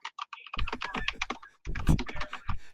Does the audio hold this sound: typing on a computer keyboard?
yes